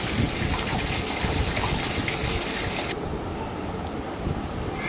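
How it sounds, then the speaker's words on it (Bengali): Water running and sloshing steadily while soya chunks are washed in a kitchen, a continuous close gush that eases slightly partway through. "সয়াবিনটাকে জলে ধুয়ে পাঁচ দশ মিনিটের জন্য ভিজতে দেবো"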